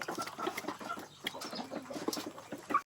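Mother hens pecking and clucking close by, a busy patter of taps mixed with soft clucks and rustling from a small flock, with no voices.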